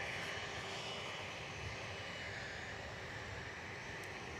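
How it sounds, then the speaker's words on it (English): An Airbus A319 airliner lands on runway 9 at Miami airport, its engines making a steady, faint, distant roar with no talk over it. "Short runway 9, A319 lands runway 9."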